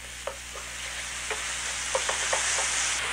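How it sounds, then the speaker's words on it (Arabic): Chicken kibbeh ingredients seasoned with cumin and salt are stirred and fried in a pan, a steady sizzle running throughout with a string of short scraping stirs on top, close and moderately loud, with no talking. "بحرك المكونات ليتقلوا مع بعض"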